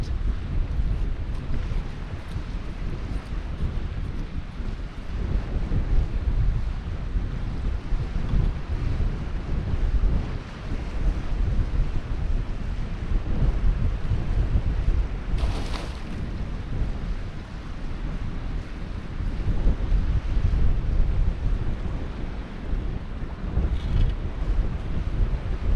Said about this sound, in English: So it has been quite harsh, really, wind-wise. But at least it's a warm wind.